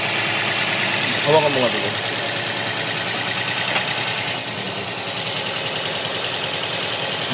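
A Toyota Vios engine idling with a misfire, a steady close mechanical drone with a slightly uneven beat, while people talk over it briefly.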